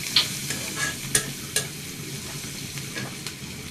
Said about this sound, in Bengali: পেঁয়াজটা ভালোভাবে ভাজা হয়ে গেছে